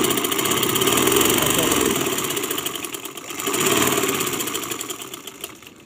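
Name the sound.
sewing machine stitching a sleeve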